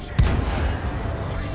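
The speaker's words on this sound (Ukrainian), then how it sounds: "Артилерія, бачите, невгамовно стріляє, але не влучає" Artillery fires in a tank video game with the Panhard EBR 75 (FL 10) on the Redshire map, one sharp loud boom with a deep thump, followed by a rumbling, noisy battle ambience.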